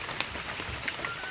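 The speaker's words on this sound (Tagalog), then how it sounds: "sobrang lakas ng ulan" Heavy rain falls steadily on a farm during the rainy season, a dense, continuous hiss of drops with scattered brighter patters, close and evenly loud throughout.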